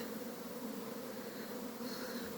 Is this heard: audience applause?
no